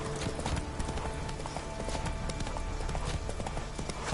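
A horse galloping in The Witcher 3 video game, with fast, steady clip-clop hoofbeats close up and continuous throughout, over a faint ambient game background.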